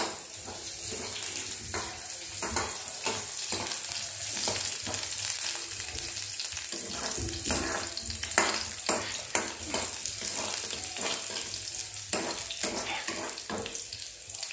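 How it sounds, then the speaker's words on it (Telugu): Onions frying for Maggi noodles sizzle steadily in a pan while a spoon stirs them, giving repeated scraping strokes close by. "మనం ఎర్రగడ్డ వేసేసుకుంటున్నాం. ఇప్పుడు మిక్స్ చేసుకున్నాం."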